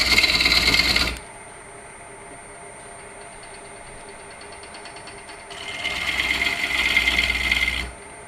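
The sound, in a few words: bowl gouge cutting wood shavings on a lathe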